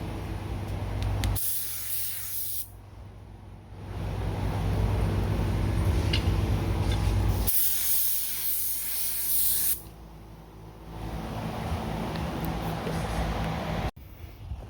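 Spray can hissing clear coat onto a cross-shaped tombstone outdoors in a driveway with a breeze, in two long loud bursts separated by quieter pauses, no talking.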